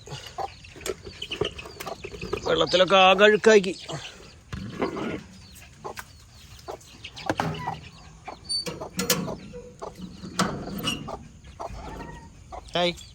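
Chicks and hens cluck and peep in a busy, close burst on a small poultry farm, with a person talking over and between the calls.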